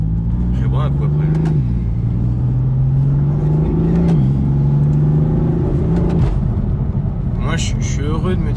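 A BMW M4 revs and accelerates hard, its engine note holding a steady loud drone that climbs and dips across the run, heard from inside the car, with a brief voice near the end.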